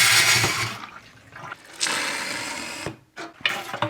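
Dirty, pea-soup-like petrol being sucked out of the fuel tank of a BMW K75 motorcycle, giving bursts of hissing, gurgling liquid noise with short pauses in between, close up.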